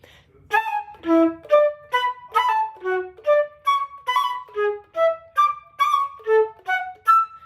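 A flute plays a quick run of separate notes, each a mordent flicking to the upper neighboring pitch, evenly paced and alone.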